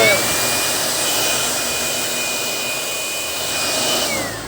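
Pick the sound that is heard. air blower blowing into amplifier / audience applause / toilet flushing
air blower blowing into amplifier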